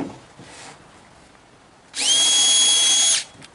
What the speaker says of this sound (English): pre-drill it a hole completely through. I'm using a 1/4-inch paddle bit.